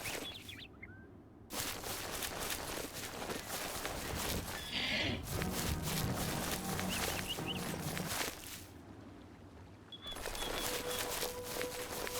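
Enhanced horses in the Oblivion video game, with hoof clatter and bursts of activity broken by brief gaps, faint neighing calls and bird chirps mixed into the game ambience, moderately quiet.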